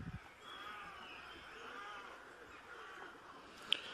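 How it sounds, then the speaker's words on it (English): Faint, distant birds call outdoors at Garrykennedy Castle, Ireland, drawn-out cawing cries in a quiet open setting, with one brief sharp sound near the end. "Ignore any sounds of birds or anything like that."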